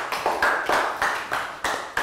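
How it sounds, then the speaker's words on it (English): Classroom applause for a young pupil: a short run of hand claps, about eight distinct claps in a loose, uneven rhythm, fairly close and moderately loud, with no talk over them. "Round of applause for Dan."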